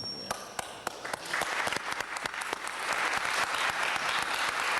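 Applause at a Los Angeles city council meeting: scattered sharp claps at first, then swelling into steady, fuller clapping from the chamber audience.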